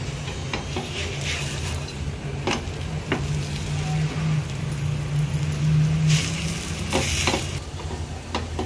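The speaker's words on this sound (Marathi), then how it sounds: "आता व्यवस्थित ह्याला असं दाबून दाबून आपल्याला हा भाजून घ्यायचा आहे।" A chicken keema paratha roasts on a hot griddle while being pressed down, a steady low sizzle with occasional scraping and tapping of a utensil against the pan.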